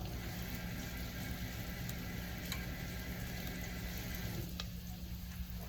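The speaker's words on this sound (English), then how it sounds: "we're just gonna stir until we feel like it's fragrant" Italian chicken dish cooking in a pan, a steady soft sizzle of frying with occasional light scraping from stirring, close and fairly quiet, no talking.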